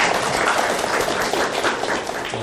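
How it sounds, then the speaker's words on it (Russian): An audience applauds at the end of a lecture on container logistics, steady dense clapping filling the room without a break and with no speech over it. "Аплодисменты"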